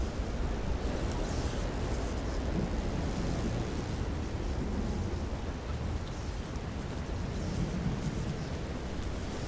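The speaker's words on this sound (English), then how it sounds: "now let's see about this storm" Stormy weather in the Elder Scrolls Online game, a dense, steady roar of rain and rumbling thunder with crashing surf filling the whole stretch at an even loudness, no voices over it.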